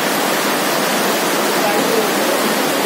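A loud, steady roar of rushing floodwater from heavy rain fills the whole clip without pause, a strong torrent pouring past nearby after a compound wall collapsed.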